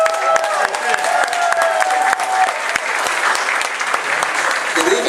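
Steady audience applause fills a Bronx town hall evening event as Bronx Borough Director Jason Laidley is introduced, dense and continuous with faint voices beneath.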